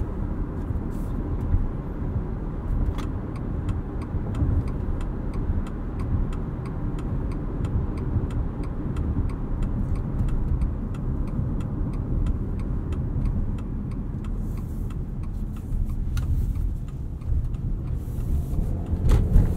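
Cabin of a 2020 Subaru Outback Onyx Edition XT while driving, a steady low road and engine rumble with faint rhythmic ticking, continuous and even throughout with no talk.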